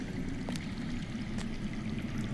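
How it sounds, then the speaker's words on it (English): Water flows somewhere underground, a faint, steady low rushing and trickling with no other sounds. "That's water. I hear water. From underground."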